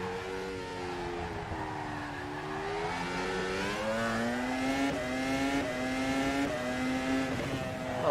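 Open-wheel Formula Pro race car engine in the rFactor 2 racing simulator at Zandvoort, revving steadily with rising harmonic pitch as it accelerates through gears, loud and continuous throughout with no talk.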